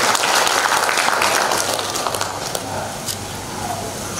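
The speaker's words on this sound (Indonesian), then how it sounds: "Kita berikan tepuk tangan dulu untuk" Audience applause at an Indonesian university accreditation ceremony, fairly loud clapping at the start that gradually fades and thins over the few seconds.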